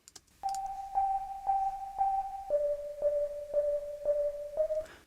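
A dry synth pluck from a chill electronic drop repeats short, clean, bell-like notes at an even pace, stepping down to a lower pitch midway, alone and fairly quiet.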